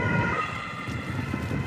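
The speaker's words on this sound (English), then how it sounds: "Yo, there's the ambulance." An ambulance siren wails steadily as the emergency vehicle passes, fairly loud and continuous over road noise, heard alone without talk.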